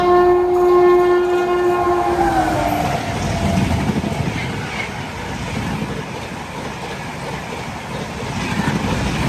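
A Duronto Express passes another train at a crossing, a loud horn blast at the start fading into a rushing roar of passing carriages and rumbling wheels on rails for the rest of the stretch.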